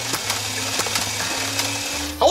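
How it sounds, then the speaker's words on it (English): A motorized foam dart blaster, a modified Commandfire pistol, whirs steadily as it is switched on and fires a couple of darts, with a brief sharp thud near the end. "I'm going to switch this on, and I'm going to hopefully fire a couple of darts"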